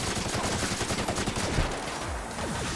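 Rapid gunfire in The Outer Worlds during a fight, bursts of shots crackling over a dense, loud battle soundscape with no speech.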